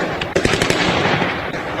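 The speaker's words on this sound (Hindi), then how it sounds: "दोनों तरफ से गोलियां चल रही थी" Gunfire from both sides of a street gun fight in Kyiv, with a loud cluster of sharp cracks and bangs early on over a dense, continuous roar of noise, no voices.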